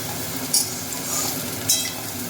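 Steady sizzling of soya chunks frying in a pan, with two brief scraping stirs of a spoon against metal; no voices.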